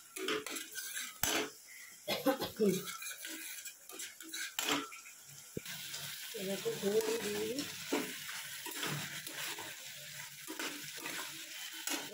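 A spoon stirs food frying in a pan, potatoes sizzling under sharp, irregular scraping and clanking of metal against the pan, close and clear, with quieter sizzle between the strokes.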